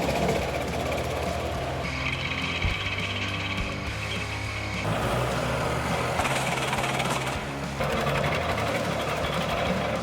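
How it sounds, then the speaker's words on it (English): A hydraulic wood-splitting machine works on a log with a continuous, loud mechanical drone that shifts in pitch and texture every few seconds, and no voices are heard. "As the log is placed into the machine, the splitting blades descend with immense force, slicing through even the toughest wood grains."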